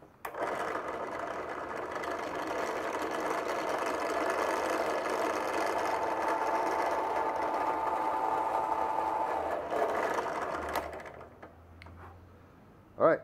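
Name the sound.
drilling a hole through bone for a letter opener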